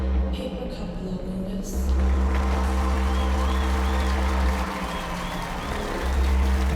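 Video game crowd in Hitman applauding and cheering at a Paris fashion show stage, a steady wash of distant clapping and crowd noise over low background music and ambience.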